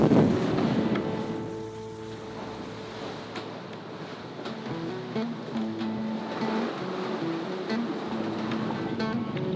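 Offshore in Asia, wind rushes and waves wash around a sailing boat, with wind buffeting the microphone and creaking, knocking sounds from the boat, loud and continuous throughout.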